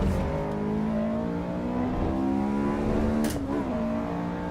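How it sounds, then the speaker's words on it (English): A Honda S2000 with stock exhaust and intake, driven in the Assetto Corsa racing game, its engine droning steadily and loudly throughout, with a brief shift in pitch near the end and no voices. "Like this S2000, this sounds really, really good considering it's just, you know, OEM exhaust system and OEM intake system"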